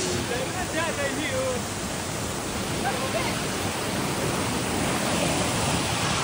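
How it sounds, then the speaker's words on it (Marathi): Randha waterfall, reached on a night trek, gives a constant, dense, close roar of falling water that fills the whole scene, with faint voices briefly audible underneath near the start. "waterfall this is the waterfall Vasundhara waterfall"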